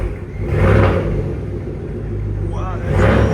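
A GMC Yukon AT4 with a 5.3 liter V8 and straight pipe exhaust, heard from inside the cabin as a deep, steady rumble that swells into two revs, with people talking over it.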